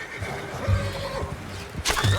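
A horse in Red Dead Redemption 2 lets out a short, close whinny, with faint hoof clops around it. A second neigh breaks in near the end.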